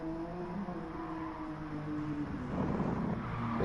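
A Peugeot race car engine in GT Sport, a steady droning hum that grows a little louder and rougher toward the end, heard alone.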